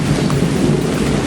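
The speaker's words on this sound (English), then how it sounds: "But at least tropical rain is not so cold" Heavy tropical rain pours down in the Amazon, a loud, dense roar of drops with a deep low rumble beneath, close and continuous over a brief stretch, with no voices.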